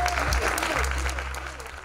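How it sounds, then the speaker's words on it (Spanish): Audience applause at the close of a live Chilean cultural program in Tarapacá, brief and fading, heard under someone speaking and some low background hum. "Aplauso cerrado al final de la jornada, aplauso cerrado y bien merecido."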